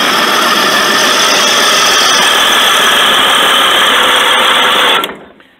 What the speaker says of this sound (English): You want to get that oil out, but so you got to turn over the engine.